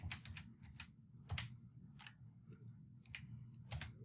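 Typing on a computer keyboard while writing class code, a quiet run of close, crisp key clicks in short uneven bursts with small pauses between them.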